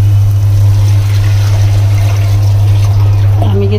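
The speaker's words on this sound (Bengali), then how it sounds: "এখন দিয়ে দিব পানি।" Water is poured into a pot of fried polao rice, making a soft trickling pour over a loud, steady low hum. A brief clink comes near the end.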